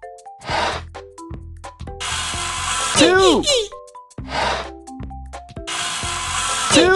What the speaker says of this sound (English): use your finger to cut the boards with the number